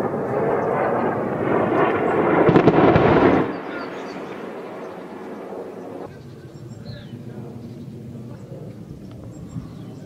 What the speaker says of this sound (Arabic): أكثر من 25 غارة